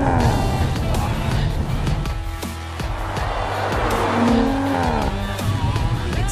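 A 2018 Audi RS 5 accelerating on throttle, its engine note loud and sustained with a rising tone and some tire noise, close by, with a voice speaking over it.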